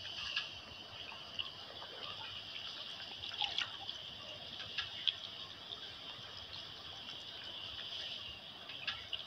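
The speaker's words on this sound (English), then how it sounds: "This is such a nice shower." Shower water from a Toca Boca video game runs in a steady, faint hiss, with small splashy ticks scattered through it.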